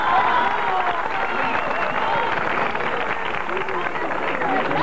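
An audience applauding a tuna group at a La Serena music gathering, a dense, continuous wash of clapping with crowd noise mixed in throughout.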